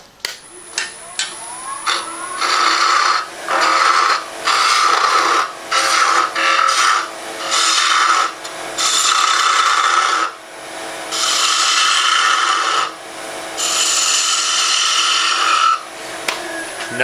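Wood being turned on a lathe for a spin top, as a handle is cut away, gives repeated scraping bursts of a gouge against spinning wood, each lasting a second or two, close and fairly loud, with no speech.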